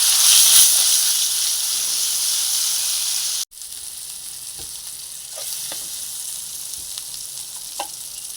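Ground brinjal and tomato chutney hits hot tempering oil in a pan with a loud, bright sizzle, which abruptly drops to a softer hiss broken by small crackles and pops.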